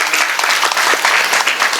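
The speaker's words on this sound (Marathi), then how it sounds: "या ग्रामस्थांचं एकदा जोरदार टाळ्या वाजून स्वागत करावं" Villagers at a kirtan gathering clap loudly and continuously, a dense, close burst of applause from a large crowd.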